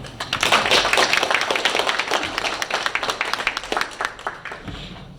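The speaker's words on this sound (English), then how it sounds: "give her a round of applause" An audience at a Republican meeting with Governor Paul LePage applauding, a dense burst of clapping from a crowd that starts strong and gradually thins out near the end.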